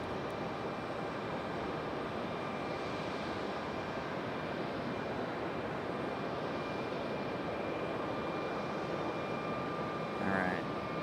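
An Airbus A319/A320 airliner moves at Raleigh-Durham International Airport, producing a steady, broad engine roar and rumble that holds fairly constant throughout at a moderate distance.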